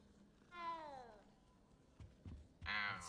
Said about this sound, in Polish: O, jaki piękny koteczek.